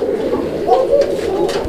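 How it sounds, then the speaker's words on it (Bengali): Raj-golla pigeons coo close by, a soft throaty rolling call repeating over a steady background murmur. "দর্শক বন্ধুরা দেখাচ্ছি চমৎকার আরও এক জোড়া কবুতরের কালেকশন রয়েছে কালারিং রাজগোল্লার মধ্যে"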